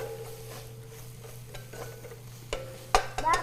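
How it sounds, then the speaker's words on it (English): Onions seasoned with salt and pepper sizzle softly in a pan while a utensil stirs them, with scattered scrapes and clinks growing louder toward the end; no one speaks. "We're going to add a little bit of salt and pepper to our onions. And give them a little stir."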